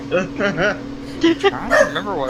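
A dog yips and barks in short bursts nearby while a person talks over it.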